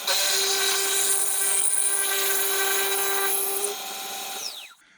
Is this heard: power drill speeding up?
yes